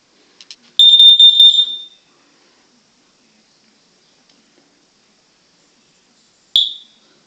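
Smoke alarm under test gives a short burst of piercing high-pitched beeps, then falls silent before a single brief chirp near the end, in an otherwise quiet room.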